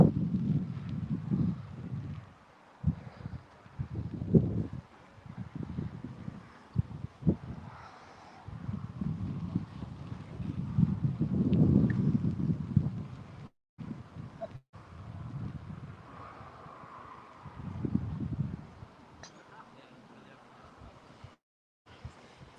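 Wind gusting across a golf course at the Scottish Open, loud buffeting rumble against the microphone in uneven bursts, with speech faintly underneath.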